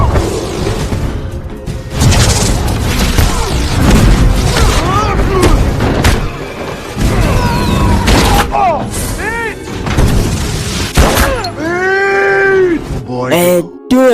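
Fireworks go off at a party in a film, a series of loud booms and cracks under a narrator's voice, with music and whistling tones rising near the end.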